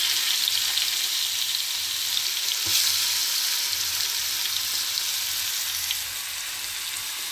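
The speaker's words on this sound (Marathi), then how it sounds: "फोडणीमध्ये कांदा घालते." Onion sizzles in hot tempering oil: a steady, broadband hiss of frying that holds even and fairly loud throughout, close up with a brief stir or knock near the middle and no speech.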